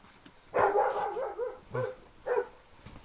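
A dog barks outdoors at the edge of a village, three or four moderately distant barks in an uneven sequence over a quiet background.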